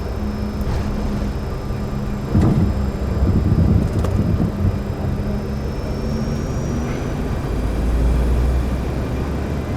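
A simulated Bombardier CRJ 200 jet in X-Plane 11 rumbles down the runway after landing, its engines roaring steadily with thrust reversers deployed, and a few thumps and rattles from the rollout.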